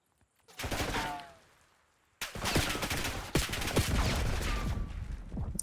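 Automatic rifle fire in Call of Duty Black Ops 6, a rapid burst followed by a pause, then a longer run of loud sharp shots with a few standout cracks.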